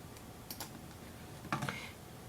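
A few brief keystrokes on a computer keyboard while numbers are entered into an Excel spreadsheet, soft clicks in two small clusters over a quiet background.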